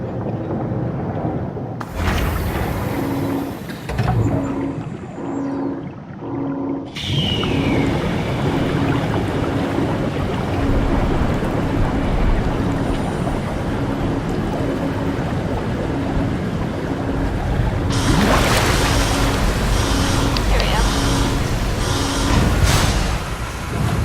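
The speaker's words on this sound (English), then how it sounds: "Water draining out." Water drains out of a flooded chamber in the video game SOMA, a loud, continuous rushing wash that drops out briefly and then surges again, with a mechanical tone pulsing underneath.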